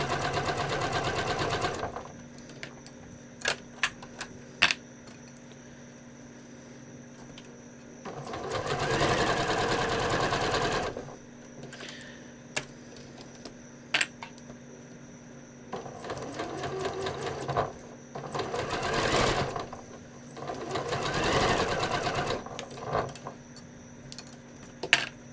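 A sewing machine stitches fabric around a curve, running in several loud bursts of steady motor whir separated by quieter pauses with small clicks and handling noises.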